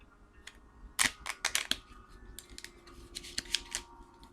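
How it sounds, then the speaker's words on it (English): Playing cards riffled in a light bridge shuffle, giving a burst of quick crisp flutters and snaps, close and clear with no talk. "Another way of shuffling I have seen, which is the light bridge."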